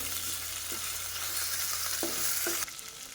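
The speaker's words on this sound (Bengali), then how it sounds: "এবার আমি মাংসের টুকরোগুলো দিয়ে দেবো, দিয়ে একটু ভালো করে আদা রসুনের সঙ্গে ভেজে নেবো।" Chicken pieces sizzle steadily in ginger garlic paste in a wok for a chicken soup, with a few soft scraping stirs breaking through the close, continuous frying hiss and no voices.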